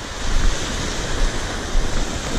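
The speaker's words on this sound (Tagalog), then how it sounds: "Hindi ganun kalalaki alon." Ocean surf rolling onto a rocky shore with corals at a fishing spot, a steady broadband wash with gentle swells rising and falling, plus some wind rumble on the microphone, and no voices.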